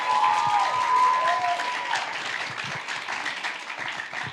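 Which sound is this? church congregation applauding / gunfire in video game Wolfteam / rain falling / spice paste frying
church congregation applauding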